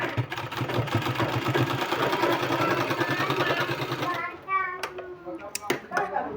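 Close and continuous, a sewing machine rattles out rapid, even stitches in fabric for palazzo pants, then stops, followed by light handling clicks and taps.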